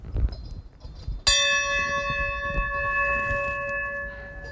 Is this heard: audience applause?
no